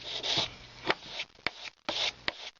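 An emery stick rubs back and forth over a metal jeweller's hammer braced against a bench peg, giving close, dry rasping strokes in irregular bursts with short pauses and a few sharper scrapes.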